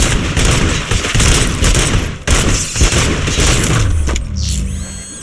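Dense, loud gunfire fills a firefight in the video game RoboCop: Rogue City, rapid overlapping shots and booms continuing throughout, with a descending mechanical whine near the end.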